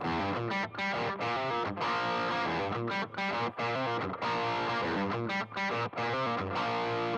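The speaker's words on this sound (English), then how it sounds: "if I toggle the pedal on the SD1" Electric guitar through an overdriven amp with the Boss ME-90's SD-1 overdrive engaged plays chords with a gritty, crunchy tone, steady and loud with brief gaps between phrases.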